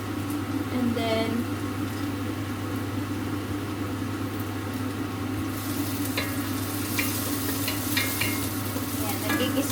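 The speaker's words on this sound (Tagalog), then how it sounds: "nagigisa na rin ako ng sibuyas at bawang" Onion and garlic sautéing in a pan give a steady, loud sizzle throughout, with stirring scrapes over it and a low constant hum in the background.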